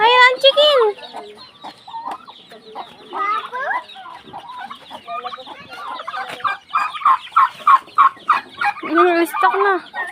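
Chickens cluck and squawk at feeding time in a farmyard, a busy run of close, loud calls in irregular bursts, with brief pauses and a denser flurry of clucking toward the end.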